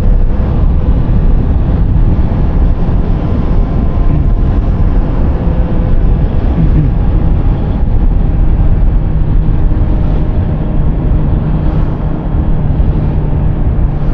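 A Honda CBR650R motorcycle with E-Clutch rides through city traffic, its engine drone and wind rush steady and loud the whole way through.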